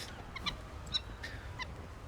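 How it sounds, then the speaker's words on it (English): A stressed, partly featherless bird squawks in the Ruined King video game, giving a few short, shrill, fowl-like calls over a low steady game background with no talking. "This bird looks stressed and some of its feathers are missing."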